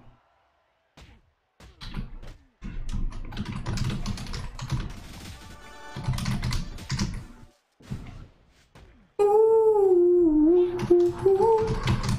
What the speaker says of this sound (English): I apologize for typing